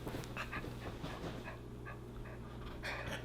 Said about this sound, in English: That's Honey barking.